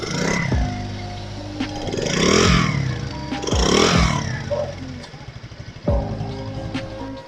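Lucky Star LST100 100cc motorcycle exhaust revving in repeated bursts, each throttle blip rising then falling back to a rough idle, close and loud with a low engine rumble throughout.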